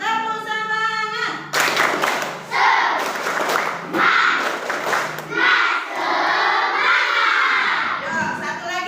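Classroom children perform the tepuk semangat, a rhythmic clapping chant, with bursts of clapping mixed with loud, shouted group voices; a teacher's voice leads at the start before the claps and chanting take over.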